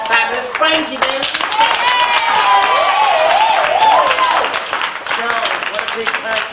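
Applause and clapping for a performer, steady across the clip and mixed with voices and a wavering melodic vocal line, ending as the clapping thins out.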